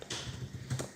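A few quick keystrokes on a computer keyboard, soft and close, in a short burst of light tapping.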